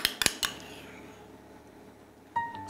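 Heaped spoonfuls of tomato concentrate go into a pot of Greek-style fish sauce, with three sharp metallic clinks of spoon on pot at the start, a quiet stretch, then another clatter near the end.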